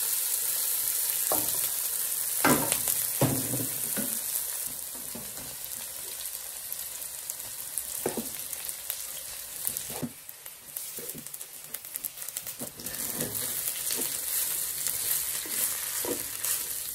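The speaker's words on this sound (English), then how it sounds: "I'll add some of the vegetable. I'm frying it in 2 batches." Chicken fried rice with vegetables sizzles and fries steadily in a hot pan, with scattered scraping and stirring clatters breaking through the constant crackle.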